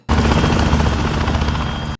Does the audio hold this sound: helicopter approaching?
yes